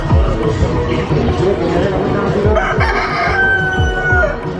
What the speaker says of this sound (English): There's the roosters that are making all the noise.